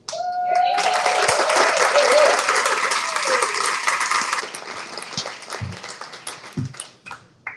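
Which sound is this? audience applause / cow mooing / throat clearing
audience applause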